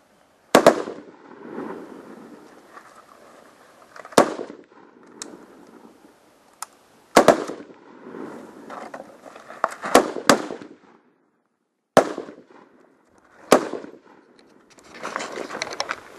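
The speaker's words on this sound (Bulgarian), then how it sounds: "Положение легнал 5 изстрела!" Rifle shots at a Commando Challenge shooting range, fired from the prone position, crack sharply and loudly about seven times at irregular intervals, each followed by brief rumbling echo, with faint shuffling between shots.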